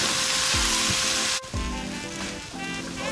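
Drained gluten-free pasta tossed in a pan with oil, a quiet sizzle with a couple of soft thuds and scraping stirs, a brief dip midway, no one speaking.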